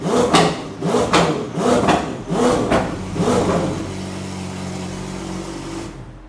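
McLaren 720S with a RYFT exhaust revs in several sharp, loud blips, each rising and falling quickly, then settles into a steady idle drone with no voices.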